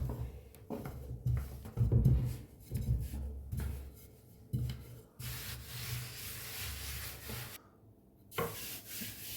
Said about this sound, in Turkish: Bu şekilde hamurumuzu açarak şekil vereceğiz.